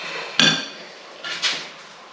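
Metal spoon scraped and tapped against a sour cream jar while cooking, two sharp clinks a second apart, each followed by a brief scrape.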